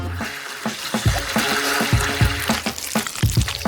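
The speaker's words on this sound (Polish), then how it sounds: "Wymieszam żelatynę z cukrem i wodą. I dobrze ubiję." Gelatin mixed with sugar and water is whisked in a bowl, giving rapid, rhythmic wet tapping and sloshing strokes heard up close and steady throughout.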